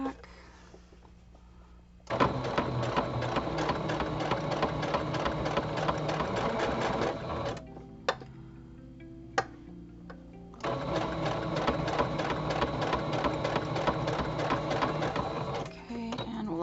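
Sewing machine stitching a zigzag on fabric, a loud, rapid mechanical chatter running in long bursts with brief pauses and single clicks between them, close by.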